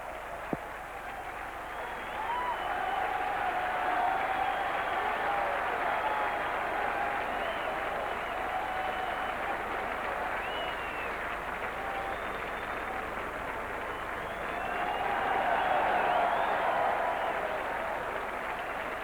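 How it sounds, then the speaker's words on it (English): At the Prix de l'Arc de Triomphe racecourse, a large crowd in the winner's enclosure cheers and applauds for the winner in a steady distant roar, swelling again near the end. "they're just cheering El Condor Pasa here in the winner's enclosure as well"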